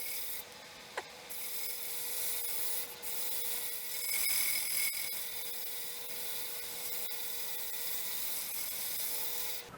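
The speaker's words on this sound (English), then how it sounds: "let me get it sanded" Steady abrasive rubbing of sandpaper on a wooden clock piece in a workshop, a continuous close rasp running throughout without speech.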